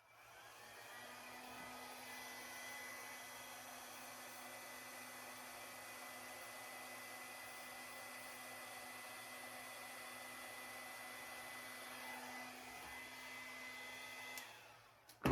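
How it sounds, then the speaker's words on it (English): A hair dryer blows with a steady, even whoosh and a constant hum for about fourteen seconds, used on resin with pigments, then clicks off with a brief bump at the end. "Let's try the hair dryer first"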